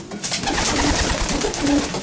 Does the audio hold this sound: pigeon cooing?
yes